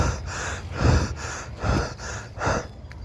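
A voice imitates heavy, excited panting, a few loud breathy gasps in an uneven rhythm, close and alone with no speech.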